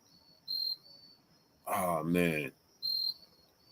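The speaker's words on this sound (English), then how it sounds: "You got the crickets talking to you out there." Crickets chirp outdoors in three short bursts, steady and moderately loud, with a voice talking briefly between them.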